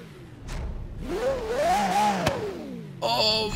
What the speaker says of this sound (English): Just prepare yourself for this V12